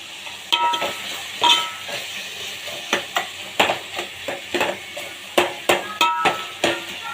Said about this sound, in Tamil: இந்த கத்திரிக்காய் வந்து இதில் வந்து ஆட் பண்ண போகிறேன்.